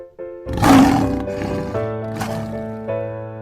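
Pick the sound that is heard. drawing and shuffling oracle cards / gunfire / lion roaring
lion roaring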